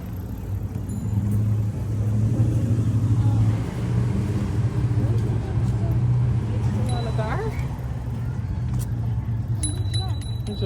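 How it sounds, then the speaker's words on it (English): A garbage truck rumbles along an Amsterdam street at close range, a steady low engine drone with a faint clink partway through. "Just went to the right, the garbage truck."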